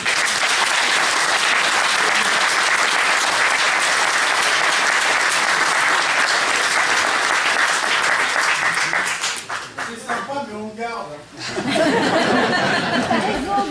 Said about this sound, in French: j'aimerais bien, si vous voulez, qu'on l'applaudisse